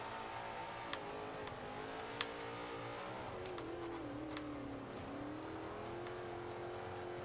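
A Mercury Cougar race car in Forza 5 drones along steadily at a moderate level, its engine tone wavering as the revs climb and dip. A couple of sharp clicks punctuate the first seconds.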